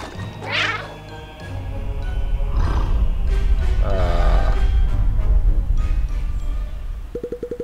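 A cartoon cat in the action RPG Cat Quest II lets out several drawn-out, wavering meows and yowls over busy game sounds, loud and close, ending with a short tonal chime.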